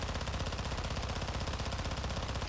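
Rapid automatic hip fire from a gun in the video game Modern Warfare 2 at a six-meter test range, a steady unbroken stream of shots filling the whole stretch at even volume.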